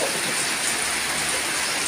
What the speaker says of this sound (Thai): ไม่วว่าฝนตกเลยพี่น้อง ฝนตกหนักเลยครับ